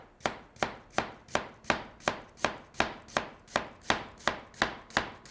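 A knife slicing an onion thinly on a cutting board, a dozen crisp, evenly spaced chops in a steady rhythm, close and alone.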